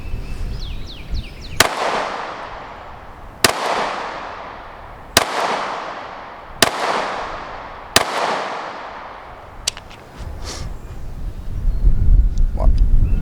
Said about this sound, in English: 5 shots out of the SIG P365